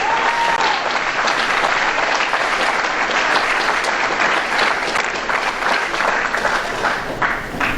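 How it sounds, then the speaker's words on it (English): An indoor audience at an alumni induction ceremony gives a long, loud, even round of applause for the inductees, dense clapping that holds steady throughout and thins slightly at the end. "could we have one more round of applause for all 6 of our inductees"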